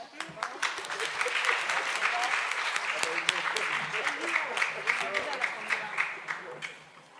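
An audience at a mayoral bursary handover ceremony applauds an intern speaker. The clapping is moderately distant, swells to a steady patter and thins into scattered claps before fading out.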